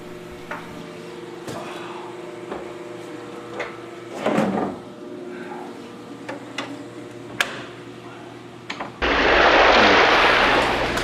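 Doors on a 400-gallon bowfront aquarium stand being latched: a series of sharp clicks and knocks, one heavier thud near the middle, then a loud broad rush of water or pump noise takes over at the end.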